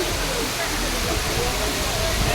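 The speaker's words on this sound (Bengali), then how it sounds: "পেছনে দুধসাগর ওয়াটারফল" Dudhsagar waterfall in Goa, running low on water, roars as a steady, loud, unbroken rush of falling water that fills the whole clip with dense broadband noise.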